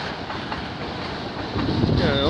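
An eastbound CN freight train passes at Mile 48 on the Halton Subdivision in Burlington, Ontario, a steady rolling rumble with wind buffeting the microphone, growing louder toward the end.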